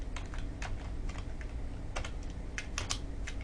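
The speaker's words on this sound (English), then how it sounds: "I can also type," Keys clatter on a computer keyboard in quick, uneven bursts of light clicks over a steady background hum, close by with no talking.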